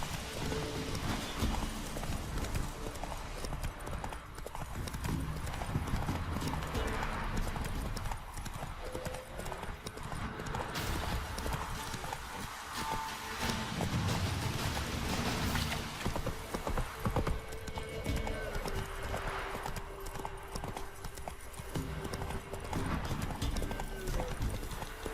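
Horse hooves clip-clop steadily throughout from a horse named Roach in the video game The Witcher 3: Wild Hunt, with occasional neighing and whinnying over a dense background of game ambience.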